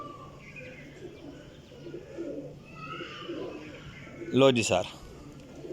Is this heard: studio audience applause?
no